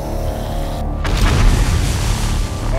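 A grenade explodes in the survival game 7 Days to Die: a loud, sudden blast with a deep rumbling low end that rolls on for a couple of seconds over constant heavy background noise.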